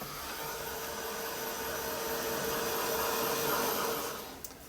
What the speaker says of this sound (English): I'll just give that a quick blast with the heat gun just to make sure it's all dry